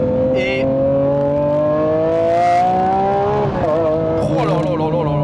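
Lamborghini Aventador SV engine revving under load: a loud, steady harmonic drone rises in pitch, briefly drops at a shift, then climbs again, with a voice exclaiming over it.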